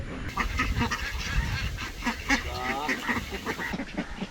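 A flock of Kuttanad ducks of the Chara and Chemballi varieties quacks nearby, many harsh calls overlapping in a busy, continuous chorus.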